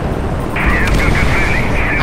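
Gunfire in the Warface video game, aimed at a cannon during the Icebreaker mission, sounds as a loud sustained burst of shots that kicks in partway through, over a dense noisy game background.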